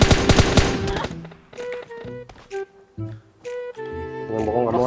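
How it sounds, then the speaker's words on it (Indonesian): Automatic weapon fire in PUBG Mobile: a fast rattling burst up front, then scattered single shots and short bursts amid game effects, with a player talking. "Kita nembakin."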